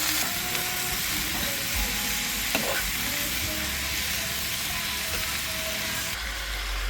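Sliced chayote sautéing with onion in a pan gives a steady, fairly loud sizzle and hiss, with a brief scrape of stirring partway through.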